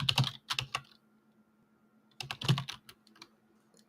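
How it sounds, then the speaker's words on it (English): Fingers tap a computer keyboard in two quick clusters of clicks separated by a pause, close and fairly quiet over a faint steady hum. "can't even see what I'm typing."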